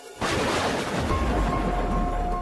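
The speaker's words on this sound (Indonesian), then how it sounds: "Terdengar suara ledakan yang keras saat sinar itu mengenai tubuh Cahyono." A loud explosion sound effect bursts in after a brief quiet moment, a sudden boom that rolls on into a sustained roar with deep low rumble and no speech.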